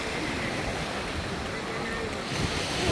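Strong ocean waves break and surge continuously along a beach at Noja, Cantabria, Spain, a loud steady roar of surf with some wind buffeting the microphone.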